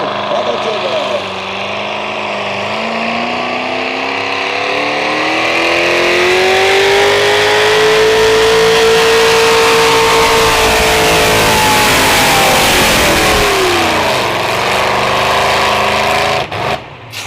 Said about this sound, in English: Real strong running truck about to make its way down the track.